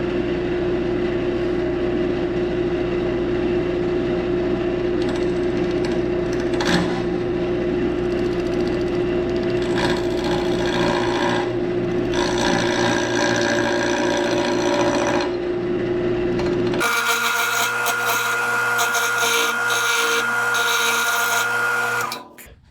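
Wood lathe turning a cane sword shaft with a hand-forged gouge, a steady loud hum and scraping cut that runs continuously, then shifts to a higher-pitched whine near the end before stopping.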